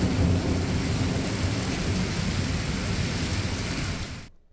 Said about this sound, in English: Thunder, heavy rain, and whipping wind hit Hackensack on Monday